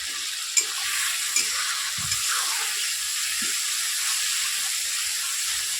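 Ground spices frying in hot oil in a home kitchen pan, a steady close sizzle and hiss throughout, with a few faint clinks of a stirring spoon.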